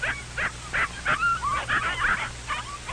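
Several puppies yip and whimper in a steady run of short, high-pitched calls, close by and fairly loud, with no talking.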